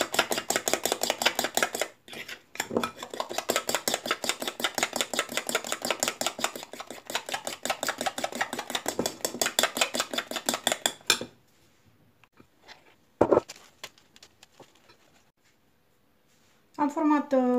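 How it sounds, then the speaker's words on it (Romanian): Gluten-free bread dough mixed vigorously in a bowl, a fast, steady run of rhythmic tapping and scraping strokes that stops partway through, followed by a few scattered knocks and a short final burst of mixing. "Amestecăm bine, bine, bine, bine."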